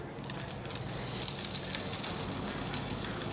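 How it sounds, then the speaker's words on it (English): A dry-aged steak sizzles steadily in a very hot pan during a reverse sear. The frying is close, loud and continuous with crackling spits. "Just listen to that gorgeous sizzle."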